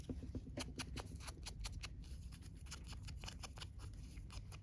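Scissors snip through antique postcard paper in quick, uneven crisp cuts close by, each one a short sharp crunch over a soft steady background, with no talking.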